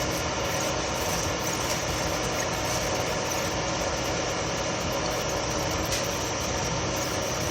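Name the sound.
air compressor running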